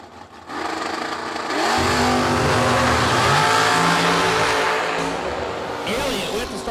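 Drag race cars at an old-school bracket race roar and rev loudly as they accelerate hard down the track, a sustained high-powered drone that fades slightly toward the end.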